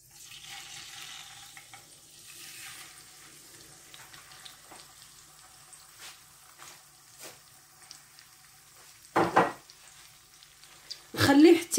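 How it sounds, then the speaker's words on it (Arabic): Meat dropped into hot olive oil for a tagine, giving a steady low sizzle through most of the clip, with a few louder bursts of spitting and clatter near the end, close by. "المهم خليت الزيت حتى سخنت لي مزيان، ومن بعد ندير اللحم ونقلالي."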